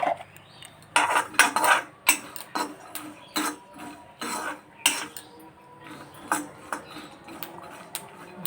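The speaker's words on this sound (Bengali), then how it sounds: "এখন তিলটা একটু ভেজে নেবো।" Sesame seeds roasting in an iron kadai are stirred with a metal spoon, making rapid irregular scraping clinks and taps close by, with no talking.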